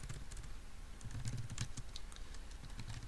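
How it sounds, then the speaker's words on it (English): Someone types a network command on a computer keyboard: quick, light key clicks in uneven bursts over a faint room hum, close and alone without speech. "what we'll type in this time is actually we'll just type in net local"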